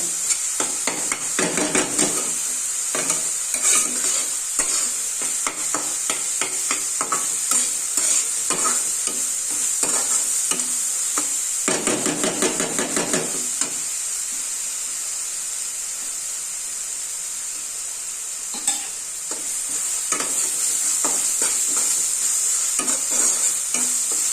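Masala and chili powder sizzling and being stirred in a pan for a spicy village-style mutton curry, with steady close frying hiss and repeated scraping strokes of a spoon throughout.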